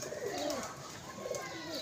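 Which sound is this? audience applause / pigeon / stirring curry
pigeon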